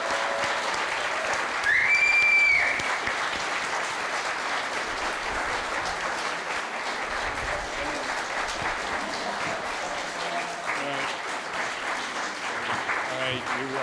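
A church congregation at a Sunday service applauds the founding donors, a dense, steady wash of clapping that holds evenly for over ten seconds, with a brief tone and some voices mixed in.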